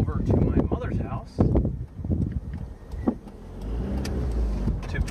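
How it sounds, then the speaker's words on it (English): Car driving along a road with steady engine and road rumble, low tire noise swelling toward the end, under someone talking through most of it. "what I'm doing right now is I am driving over to my mother's house"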